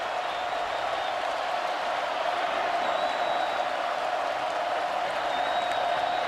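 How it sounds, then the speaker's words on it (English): Alabama fans in the stadium at the 2018 Iron Bowl against Auburn give a broad, steady round of applause and crowd noise. It sounds distant and even throughout, with a thin whistle now and then. "And he gets a big round of applause from the Alabama fans, too."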